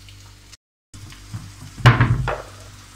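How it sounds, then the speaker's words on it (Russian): Young peeled zucchini slices frying in a pan, giving a soft sizzle that swells into a louder burst of crackling and spitting near the end, with faint kitchen clatter around it. "Эти пока жарятся"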